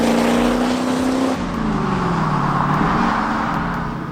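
A 1968 Dodge Dart with a V8, dual-plane aluminum intake, 4-barrel carb and 4-speed swap drives along, its engine a steady loud rumble that shifts pitch partway through as revs change, heard from inside the car.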